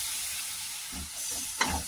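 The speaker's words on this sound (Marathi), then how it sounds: "आपल्याला गुळ असं शिजवून घ्यायचा आणि नितळून घ्यायचा आहे।" Jaggery cooks with a little water in a kadhai, giving a soft, continuous bubbling hiss broken by a few low stirring scrapes and one sharper knock near the end.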